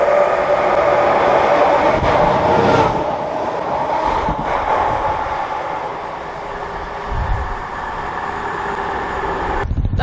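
A train races through a small Norfolk railway station at speed, a loud continuous rumble and rattle of wagons rolling past close by for the whole stretch, with no talk over it.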